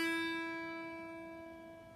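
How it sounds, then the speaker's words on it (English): A single open note on a guitar's thinnest string rings out alone and slowly decays, fairly quiet and close. "we're just going to use one string, just the thinnest string"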